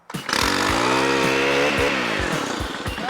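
Gas-powered weed whacker running steadily right after a cold start from a primed engine, a loud close buzzing two-stroke drone with wavering pitch and small sputtering dips, no talking.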